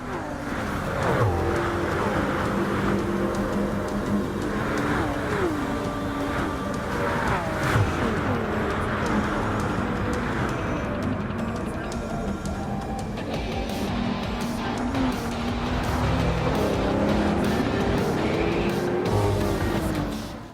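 The Green Auto Company Maverick coupe in a racing game drives continuously, its engine droning and rising through gear changes with repeated revving sweeps and shifts across the whole stretch.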